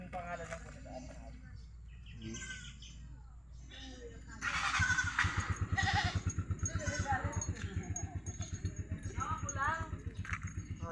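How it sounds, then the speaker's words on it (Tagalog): Goats bleat repeatedly, growing louder and more insistent midway, while people talk over the animal calls. "nanguhuli na ng kambing."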